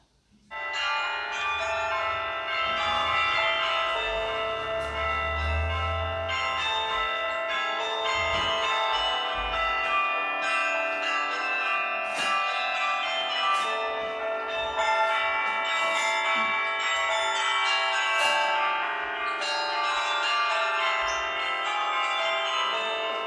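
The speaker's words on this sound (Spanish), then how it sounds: "Ahora les dejo este fragmento de las campanas sonando." The carillon of St. Rumbold's Cathedral in Mechelen rings out a continuous melodic peal, many tones overlapping and sustained, loud and resonant throughout with no talking.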